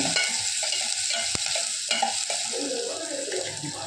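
Chopped onion sautéing in a pan, close sizzling with stirring and spoon clinks against the metal, steady throughout.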